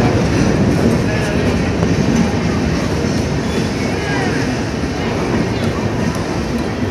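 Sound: long express train passing

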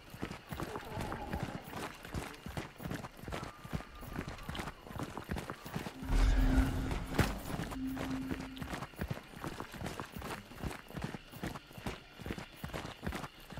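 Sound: horse hooves and whinnying in video game Hunt: Showdown

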